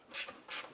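Ratchet wrench loosening a 10mm bolt on the battery brace of a 2001-2005 Honda Civic, two quick clicking ratchet strokes close up with no talk.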